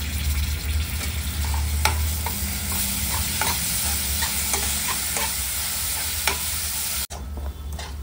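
A spoonful of ginger-garlic paste and asafoetida sizzles loudly with onions in a pan, a dense continuous frying hiss broken by repeated stirring scrapes and taps, with a brief dropout near the end.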